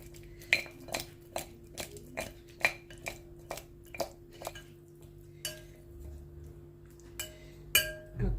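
Chicken wings are tossed with peri peri sauce in a bowl, a utensil clinking rhythmically against the side about once a second, with wetter squishy mixing toward the end, close and without voices.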